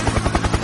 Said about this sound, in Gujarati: હેલિકોપ્ટર